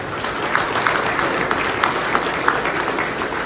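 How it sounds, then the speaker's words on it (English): Dense, steady round of applause from a crowd honoring fraternity members at a Kappa Alpha Psi chapter's 50th anniversary event, with sharper individual claps popping out of the continuous clapping. "I'll give my sons a big round of applause"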